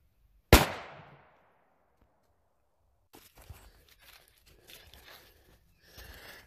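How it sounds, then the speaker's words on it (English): Single sharp, loud rifle shot from a .350 Legend outdoors, fading with a short echo, followed by quiet rustling and footsteps. "Let's shoot it one time and see how many it'll go through."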